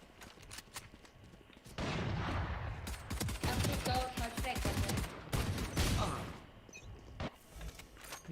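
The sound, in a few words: gunfire in the video game Valorant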